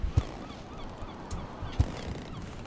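A seagull in a mountain-climbing video game gives two brief honking calls, spaced well apart, over a steady low background hum.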